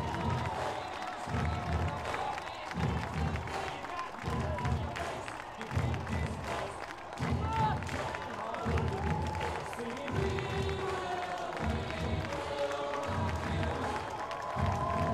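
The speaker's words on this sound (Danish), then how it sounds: "Lad os endelig få hende løbet de sidste meter i mål med denne her klap i tak, publikum." Spectators applaud and clap rhythmically at the Copenhagen Half Marathon 2022 finish line as the women's winner approaches. The steady, crowd-wide clapping runs throughout at a moderate distance, beneath a loud announcer's voice.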